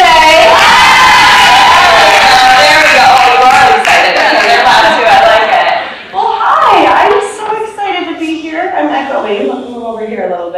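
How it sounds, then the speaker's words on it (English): A large audience at an International Women's Day event cheers, whoops and claps loudly in a sustained roar welcoming Kate the Chemist onto the stage, with shouts and excited voices rising above the crowd before it thins toward the end. "let's give a big round of applause to Kate the Chemist and welcome her on stage"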